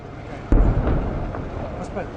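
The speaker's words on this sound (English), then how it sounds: "Rescue workers are setting off explosions so they can get better access to search the interior." A single sharp blast from rescue workers' explosives on a shipwreck bursts out, followed by a deep rumbling roar that slowly fades with faint crackles.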